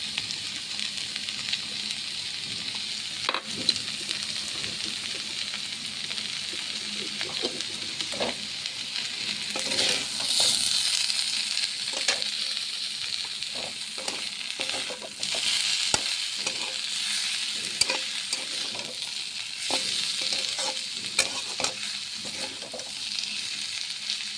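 Vegetables sizzle and fry in a pan for a vegetarian chorchori, with chopped coriander leaves added, while a utensil scrapes and stirs in irregular taps under a steady close hiss of oil.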